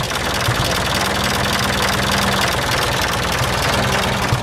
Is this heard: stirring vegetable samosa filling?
no